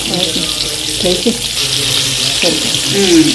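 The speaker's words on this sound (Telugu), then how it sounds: "ఫస్ట్ నెక్స్ట్ ఒక చేప అలా ఫ్రై చేస్తాం." Pomfret fish frying on a pan, a loud steady sizzle and crackle with low murmured voices running underneath.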